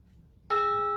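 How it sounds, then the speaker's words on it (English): A doorbell chimes once in a stage pantomime, a clear, bright ringing tone that starts abruptly after a near-silent moment and holds steady, loud and close. "Knocks the doorbell."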